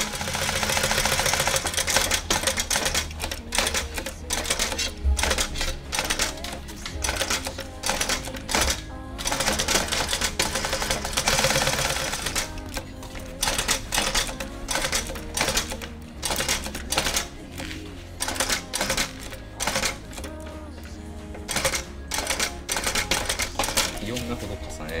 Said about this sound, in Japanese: で貼り付けれたらファスナー周りを縫います